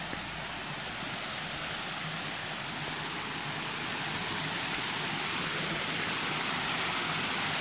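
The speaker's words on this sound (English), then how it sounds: "This is like a couple waterfalls." Waterfalls in the Blue Mountains, a steady, dense rush of falling water filling the whole stretch with constant broadband hiss and no talking.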